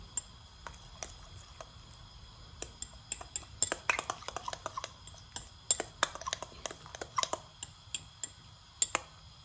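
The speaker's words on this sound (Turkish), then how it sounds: "Bu sırada yumurtayı yine çırpıyorum." Eggs being whisked in a bowl while oil heats for a Turkish cheese omelette, giving a quick run of sharp clicking taps against the bowl, irregular and close, alone.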